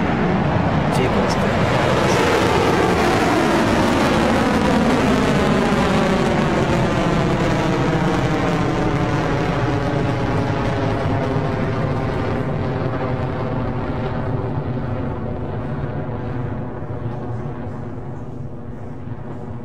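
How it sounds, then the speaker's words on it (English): Electron launch vehicle lifting off, a loud, dense rocket engine roar crackling across a broad band and slowly fading as it climbs away, with a voice talking over it. "And we have liftoff."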